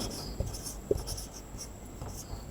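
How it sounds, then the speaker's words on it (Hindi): Chalk or marker strokes on a board during a classroom lesson, a soft, close scratching with a few light taps over a quiet room, with no talking. "जैसे हम लोग लिखते हैं यहां पर"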